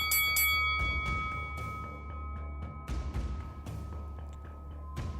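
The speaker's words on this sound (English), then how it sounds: "as the bell rings" A ring bell clangs to signal the end of a wrestling match, its ringing tones sustained over a loud, dense arena crowd noise, with several sharp strikes standing out.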